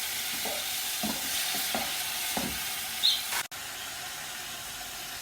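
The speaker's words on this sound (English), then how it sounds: "Then we're going to mix and let the tomato cook a little bit." A spoon stirs tomatoes cooking in a pan, a few soft scraping strokes over a low, steady sizzle, followed by a brief louder burst and a sudden drop; close and without speech.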